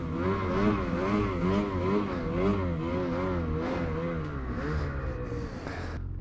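A 2020 Ski-Doo Summit Expert snowmobile engine revs and surges while riding through snow, its pitch wavering up and down as the throttle changes, loud and continuous.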